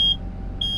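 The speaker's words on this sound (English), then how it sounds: "Oh! Smoke detector." Smoke detector inside a truck cab, two loud high-pitched electronic beeps separated by a short gap, with low engine-like rumble underneath.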